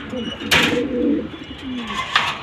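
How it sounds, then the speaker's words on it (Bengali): A pair of military pigeons coo close by, a low rolling call swelling then fading, with a few sharper flutters and a faint second coo near the end. "এই হলো একজোড়া মিলিটারি কবুতর মাশাআল্লাহ"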